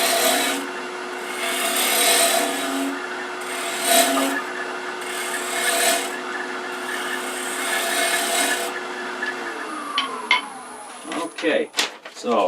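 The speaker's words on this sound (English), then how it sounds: "I'll take one more pass with this spindle rough and gouge" A spindle roughing gouge cuts a wood blank on a lathe, making a steady rasping, scraping hiss in several sustained passes before falling quiet, followed by a few scattered knocks and clicks.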